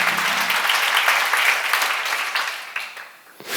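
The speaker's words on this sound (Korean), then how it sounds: "맞는 사람만 박수 한번 쳐봐요." A congregation at a church Bible seminar claps together, a dense, steady burst of applause that fills the room for a few seconds before tapering off.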